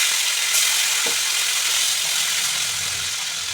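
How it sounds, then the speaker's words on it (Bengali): Parshe fish pieces go back into hot oil, producing a short, steady sizzling hiss with one or two soft pops, no voices. "আবার ওই তেলে এই মাছগুলো দিয়ে দেবো।"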